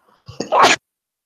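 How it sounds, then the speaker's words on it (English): A single short sneeze, close and fairly loud, followed by silence. "I tried to hit the sneeze button, but I think you might have heard part of that sneeze"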